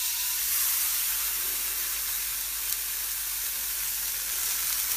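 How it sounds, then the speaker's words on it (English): Steady, continuous sizzling of meat frying in a hot pan, a bright crackling hiss that stays even throughout with no talking. "I do love that sizzle."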